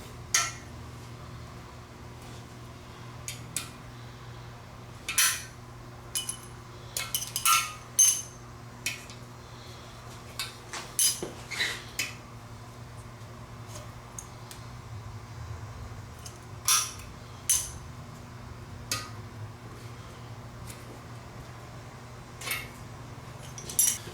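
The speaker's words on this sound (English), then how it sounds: "I will now remove the old bearings." Old bearings being pulled from an M52 engine during a rebuild: scattered sharp metallic clinks and taps of small steel parts, close and irregular over a low steady background hum, with no talking.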